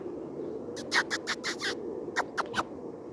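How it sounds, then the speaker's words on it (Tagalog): Several short soft pigeon calls in two clusters over a low steady background hum, close by. "Puro kalapati yan lahat, 'di ba?"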